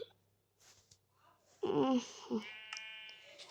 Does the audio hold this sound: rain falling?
no